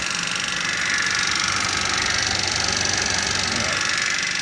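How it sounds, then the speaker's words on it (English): A small DC motor runs at full speed under a phase-control speed circuit, putting out a steady high-pitched whine and buzz that holds constant throughout. The motor sounds close and loud, with no talking. "I've got it on maximum speed. If I press forward, see the motor"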